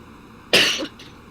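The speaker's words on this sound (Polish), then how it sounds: "kaszlemy, bo jesteśmy chorzy i to przez to" A single close, sharp cough burst from a person who is ill, with a faint second breathy trace a moment later, standing alone against quiet room tone.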